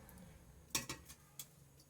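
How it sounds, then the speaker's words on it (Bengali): A lid set on a small cooking pot in a cramped home kitchen while a dish of spinach with snails simmers: one sharp metallic clink, a quick rattle after it, then a fainter tap, all close and quiet. "ব্যাস, ঢাকনা দিয়ে দিলাম।"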